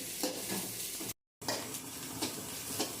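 Noodles stir-fried with egg, cabbage and capsicum sizzle and scrape steadily in a hot pan, a continuous close hiss with stirring clatter, broken by a brief silent gap midway.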